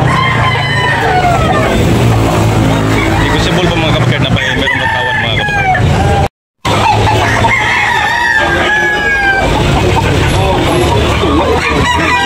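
A rooster, part of a gray yellow-legged gamecock sale in Tabunok, Talisay, Cebu, crows repeatedly amid clucking fowl, loud and near, while someone talks steadily over it.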